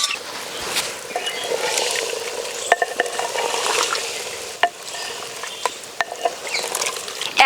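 Fried young jackfruit being stirred into chicken curry in a clay pot, a soft bubbling sizzle with repeated close scrapes and knocks of a spoon against the pot.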